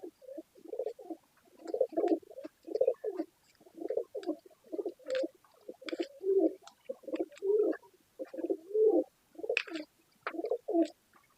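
Pigeons cooing near at hand, a newly bought female among them, in repeated throaty bursts every second or so with a few brief higher chirps, and no voices.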